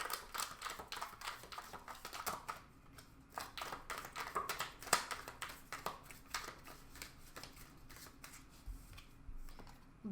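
Tea leaf oracle cards handled and shuffled at close range, a steady run of soft papery taps and flicks with brief quiet gaps, no voices.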